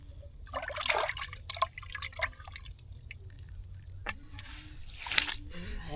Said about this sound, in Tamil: தண்ணி ஊற்றிடுறாரு